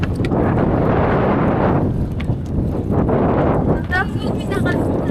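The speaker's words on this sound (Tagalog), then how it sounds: "Lakas ng hangin." Strong coastal wind at a port blasts across the microphone, loud and constant with heavy rumbling gusts, while people talk faintly underneath.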